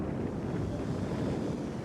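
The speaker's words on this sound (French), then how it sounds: "Un bruit incessant de ces vagues en furie dépose ou emporte des sédiments." Raging ocean waves pounding the West African coast make a steady, dense roar with no breaks, mixed with wind buffeting the microphone.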